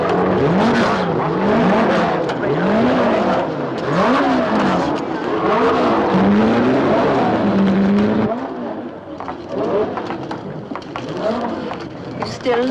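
Ferrari race cars of 1965 roll onto a starting grid, their loud engines revving and roaring past in repeated rising and falling sweeps close by.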